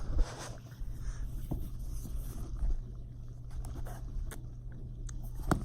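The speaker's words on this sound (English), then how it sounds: "it's my dishwasher running in the background." A dishwasher runs in the background indoors with a faint, steady low hum and soft sloshing, rushing water, quiet and continuous, with occasional small clicks.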